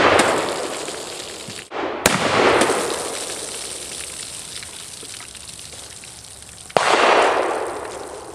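A Ruger Old Army black-powder revolver with a 5.5 inch barrel fires a 225 grain conical bullet over Goex powder, two sharp loud reports a few seconds apart, each followed by a broad noisy decay outdoors.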